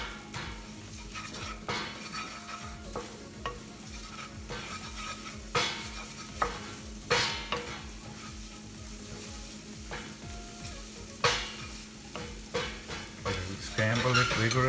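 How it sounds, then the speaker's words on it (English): Eggs and onions are scrambled vigorously in a hot pan for akuri masala, a steady sizzle broken by repeated sharp scrapes and knocks of a spatula against the pan, close and with no voices. "Scramble it vigorously."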